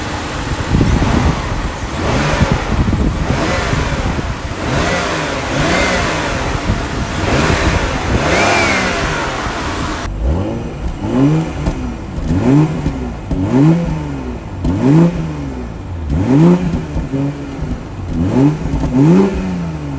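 A 2021 BMW 840i Gran Coupe's 3.0-liter twin-turbo inline-six revs loudly and steadily, then settles into repeated sharp throttle blips rising and falling in pitch, close and clear.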